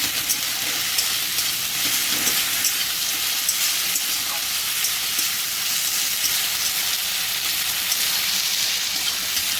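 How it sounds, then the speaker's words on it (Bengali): Tomato sizzling in hot oil while being stirred for a fish-head dal, a steady broad frying hiss with occasional faint spoon scrapes throughout, no voices. "টমেটোটা দিয়ে দেবো, একটু ভালো করে কষিয়ে নেব"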